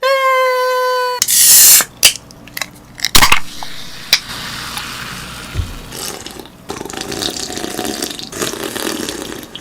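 Coca-Cola poured out and fizzing, a sharp hiss of carbonation and splashing followed by a long, close crackle of bubbles, with a brief tone at the start.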